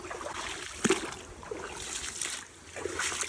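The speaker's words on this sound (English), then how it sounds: "relaxing and hypnotizing sounds of splashing water in the meantime." Water splashes and trickles in a clear creek, close by and steady, with a few sharper splashes breaking through the continuous watery wash.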